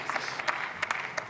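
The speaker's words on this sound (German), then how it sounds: "kann man durchaus klatschen." Applause rises in the German Bundestag chamber, a moderate patter of many hands with a few sharper claps standing out, heard from a middle distance.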